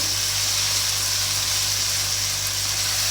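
Meat for shimla gosht frying in a pan with capsicum and seasonings gives off a loud, steady sizzle that holds unbroken from start to finish, with no voices.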